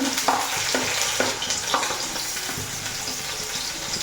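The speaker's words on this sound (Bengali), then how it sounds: "তারপরে এই যে পেঁয়াজ দিয়ে দিচ্ছি পেঁয়াজ লঙ্কা দিয়ে দিচ্ছি" Onions and green chillies hitting a hot pan with cumin, crackling and sizzling up close with a few rhythmic scraping stirs of a ladle.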